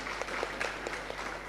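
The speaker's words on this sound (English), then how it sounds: "Give applause to her, please." Brief applause at a university law faculty student colloquium for a speaker, scattered moderate claps from a small audience over a steady low hum.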